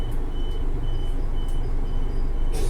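A Mandurah Line train runs on the wrong track between Aubin Grove and Rockingham. A steady high warning tone repeats at even intervals over the loud rumble of the train, followed by a sharp burst at the end.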